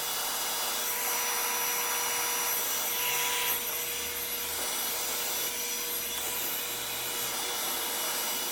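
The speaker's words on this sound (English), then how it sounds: "Just blow drying." A hair blow dryer running steadily while blow drying hair, a constant airy roar with a high whine, close and fairly loud throughout with no talking.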